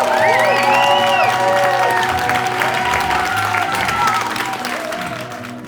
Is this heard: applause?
yes